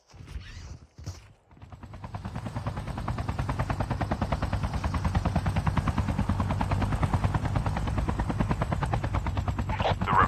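Airdrop aircraft arriving in the Call of Duty video game, a rapid rhythmic rotor-like thumping that builds within the first couple of seconds and then holds loud and steady, after a few brief sharp bursts at the start.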